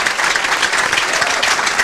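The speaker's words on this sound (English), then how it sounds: "And the crowd appreciates the performance here of the Ebonite Omegas" Crowd at a 1996 women's team bowling championship in Las Vegas applauds the winning Ebonite Omegas, loud sustained clapping from many hands filling the whole moment, with a commentator's voice faintly underneath.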